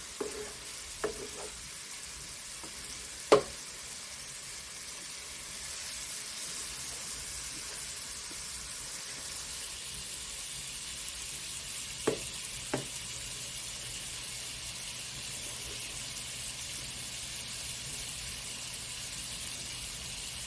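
Shrimp for chicken shrimp fettuccine sizzle in a hot pan, a steady soft frying hiss with a few light clicks and scrapes of stirring, alone without speech.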